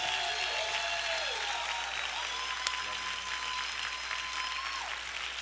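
A church congregation claps loudly and continuously, a dense wash of applause from a large crowd that holds steady throughout, with faint musical tones underneath.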